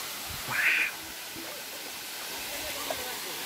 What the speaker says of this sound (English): Let's go close to the waterfall.